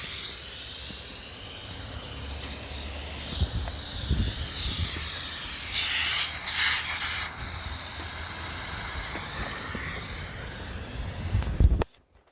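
A lawn sprinkler sprays water in a steady, close hiss that holds for about twelve seconds and then stops abruptly.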